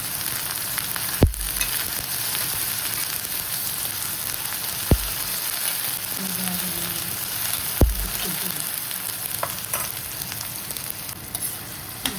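Tomato pieces and soaked tamarind fry in a pan for Andhra coconut chutney, making a continuous crackling sizzle broken by a few sharp knocks of a spoon against the pan.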